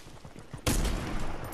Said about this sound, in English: I can't escape if I'm getting shot at.